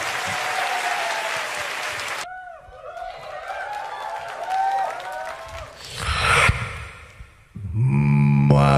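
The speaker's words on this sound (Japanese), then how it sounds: "ヒカキンに大きな拍手。" Applause for Hikakin at a beatbox show during YouTube FanFest Japan 2014 starts loud, breaks off, then gives way to crowd noise and voices, with a rising burst of sound near the end.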